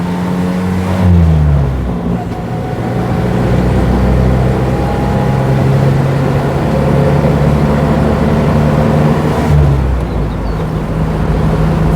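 A small rear-engined NSU Prinz 4 accelerates hard on the road, its engine climbing through the gears with rising whines that drop at each shift, loud and close inside the car.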